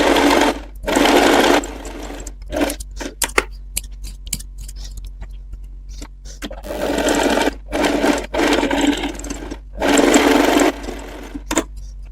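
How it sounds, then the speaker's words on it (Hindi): A sewing machine stitches the back part of a blouse in several loud bursts of rapid mechanical whirring, separated by quieter gaps with small clicks and handling noises. "अब हम यहाँ पे बैक पार्ट की स्टिचिंग करेंगे।"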